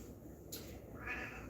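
A cat meows for food by an open refrigerator in a home kitchen, giving one short, moderately close meow over low background hum.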